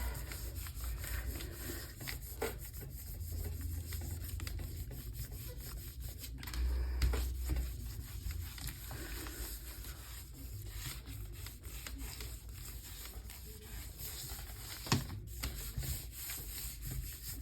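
Paint is rubbed firmly over a stencil print in a continuous, close scrubbing rasp, steady for the whole stretch with occasional brief scrapes and no voices.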